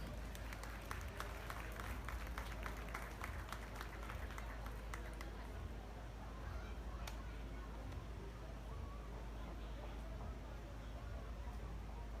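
A crowd applauds dairy cattle breeders and exhibitors at a livestock show, steady sustained clapping heard at a distance with a low rumble and murmur of the hall underneath.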